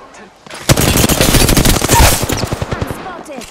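Rapid automatic gunfire in the Apex Legends video game, a loud, close burst of machine-gun shots lasting a few seconds before tapering off into scattered trailing noise.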